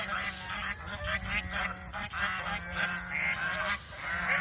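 Several male geese (rajhans) on a goose farm honk repeatedly in loud, overlapping bursts, with steady low background noise underneath.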